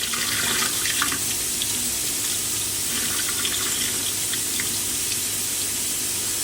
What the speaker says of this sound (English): So I wash it around 2 times to get rid of the starch.